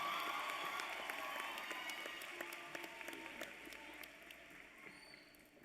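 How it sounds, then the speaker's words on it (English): Graduation crowd applause in a large hall, dense clapping that starts strong and gradually fades, with scattered sharper claps standing out. "Let's give a big round of applause to Stephen Shatkin."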